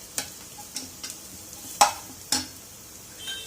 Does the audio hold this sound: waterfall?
no